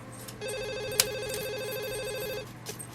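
An electronic telephone ring for an incoming caller on a radio-style show, a steady warbling trill lasting about two seconds over a low hum, with a sharp click near the middle and no talk.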